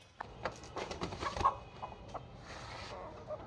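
A hen clucks softly several times nearby, with faint rustling and a quiet background.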